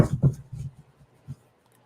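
A tarot deck being shuffled for a daily reading gives a few short, soft papery rustles and riffles, loudest at the start and then thinning to one brief flick, with low murmuring voice underneath.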